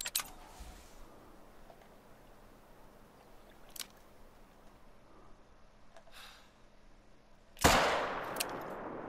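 A .44 handgun fired at a caribou outdoors near water: one sharp, loud report ringing out late after a quiet stretch with a few faint clicks and taps, its echo trailing off afterward.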